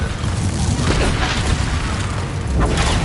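A Confringo blasting spell bursts in the Hogwarts Legacy video game, a loud, dense roaring explosion that fills the whole stretch with sustained rumbling noise and a slight swell near the end.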